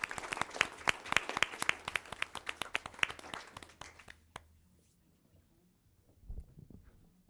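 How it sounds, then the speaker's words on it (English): A school board meeting audience gives a round of applause, sharp individual claps ringing out near and clear for about four seconds before fading to quiet, with a brief low murmur afterward. "So if we could give another big round of applause for them."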